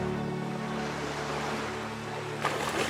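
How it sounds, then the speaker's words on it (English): Ocean waves at Shearwater Cove wash in a steady broadband roar, with a low boat-like hum running underneath and a brief louder splash near the end. "The ocean."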